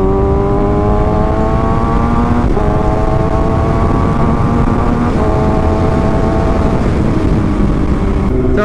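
A 2022 Kawasaki ZX6R sport bike engine revs loud and close, a high, sustained roar that climbs, drops and climbs again in repeated surges.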